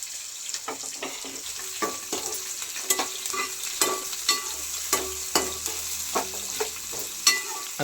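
Green chillies frying and being stirred in a pan for tomato rice, steady sizzle with a regular series of spatula scrapes and taps against the pan, close and clear.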